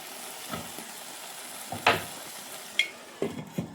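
Pepper chicken cooks covered in a pan, giving a soft, steady sizzle with a few stirring scrapes and light clinks scattered across a few seconds.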